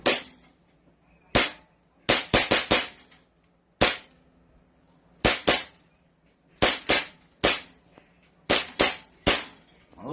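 Airsoft pistol and rifle shots, including an SRC Hi-Capa, fired during target testing: sharp, close cracks in bursts of single shots and quick doubles and triples spread over the whole stretch, with quiet gaps between them.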